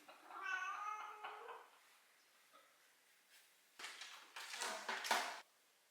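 A cat meows in a drawn-out, wavering call early on, followed later by louder broadband rustles and bumps, all fairly close with quiet gaps between.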